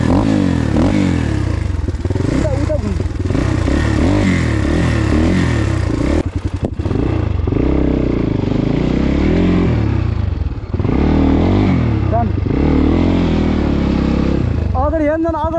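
A motorcycle rides slowly over a rough, landslide-covered mountain road, its engine rumbling and revving unevenly with rattles and scrapes throughout, while people talk over it.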